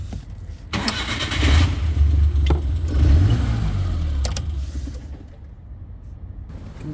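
A Labo car converted to run on methane gas as well as petrol cranks and starts, its engine catching with a loud rev before settling into a steady close idle.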